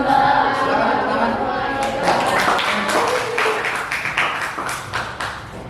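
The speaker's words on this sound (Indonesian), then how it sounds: "Silakan tepuk tangan." A classroom audience claps after a group presentation, loud and dense at first, then thinning into scattered individual claps, with some talk mixed in.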